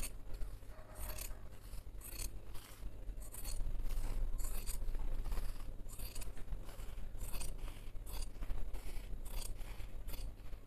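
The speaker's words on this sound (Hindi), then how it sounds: "इसके बाद इसका जो एक्स्ट्रा मार्जिन है वो हम काट देंगे।" Scissors snip away the extra fabric margin along the piping of a Jodhpuri coat, a regular run of crisp, close cuts repeating roughly every second with faint rustling of cloth between them.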